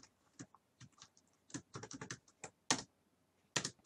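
Java code typed on a computer keyboard in short bursts of crisp, close key clicks separated by brief pauses, with a few heavier keystrokes standing out.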